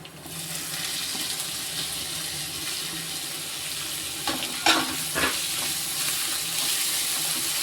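Grated amla sizzles steadily in a hot pan with softened onions for amla rice, a continuous close frying hiss with a few brief stirring scrapes near the end.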